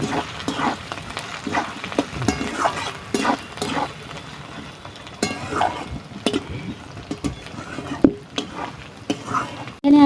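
Carrots and chopped green chillies sizzle and fry in a pan while being stirred, with a steady busy crackle broken by repeated utensil scrapes and light clanks against the pan.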